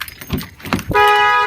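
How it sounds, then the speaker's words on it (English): A Toyota Sienna minivan's alarm blares close and loud in a steady tone after some brief jangling and handling noises, holding constant until the end. "Alarm fires off,"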